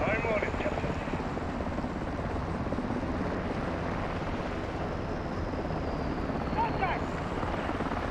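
A helicopter's steady rotor thrum fills a video game mission scene, a continuous close drone that holds throughout while soldiers talk over it on the radio.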